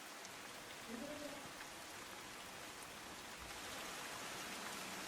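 Heavy monsoon rain pours steadily across Tapi district in Gujarat, a dense continuous hiss of drops on surfaces that stays even and loud throughout, with no voices.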